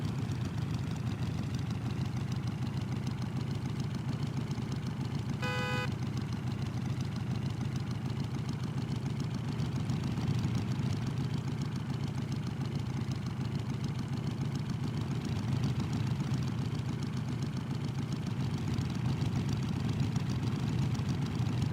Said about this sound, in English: Engine's pretty quiet.